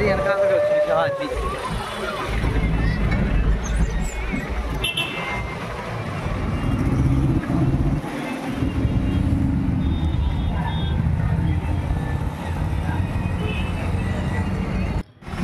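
A heavy lorry drives close by on a road around the Arunachalam hill walk at Tiruvannamalai, a steady loud low engine rumble and road roar lasting throughout before cutting off abruptly at the end.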